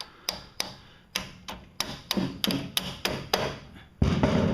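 A small hammer taps a bent bracket on a Toro electric-start lawn mower, about a dozen sharp metallic knocks in an uneven rhythm, close and fairly quiet, ending in a louder scraping thud.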